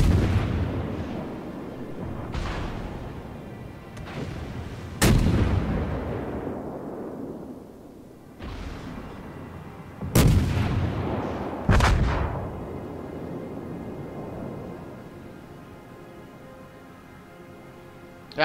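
Naval guns fire in World of Warships in a series of heavy booming salvos spaced a few seconds apart, each followed by a long rumbling decay, with a low battle drone between shots.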